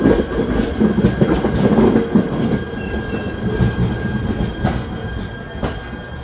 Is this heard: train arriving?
yes